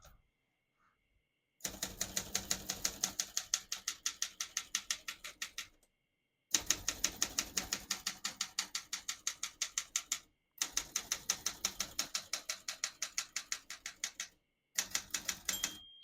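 Keys of a 1975 Olympia SM9 portable typewriter clack in quick, even runs of strikes, broken by short pauses, with a single margin bell ding near the end; close and clear, no voices.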